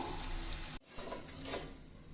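Ragi ribbon pakoda deep-fries in oil over a medium flame, giving a steady close sizzling hiss that briefly cuts out, then resumes with soft bubbling crackle.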